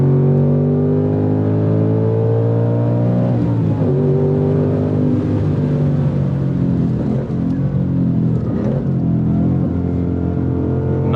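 A 2024 Ford Mustang Dark Horse V8 revs hard on a race track, a loud, close engine roar climbing steadily toward its 7500 rpm redline, dipping briefly at a shift, then pulling again without pause.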